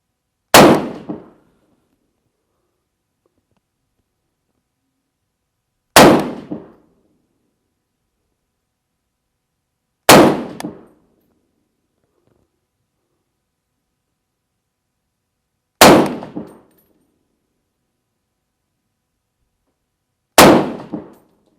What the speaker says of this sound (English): Last 5 rounds out of the IMI Defense magazine there.